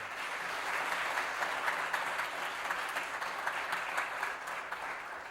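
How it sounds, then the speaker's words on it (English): A governing board meeting audience applauds a teacher, broad sustained clapping heard from a distance and fairly soft, holding evenly throughout with no speech. "let's give Mrs. Middlestat a huge round of applause"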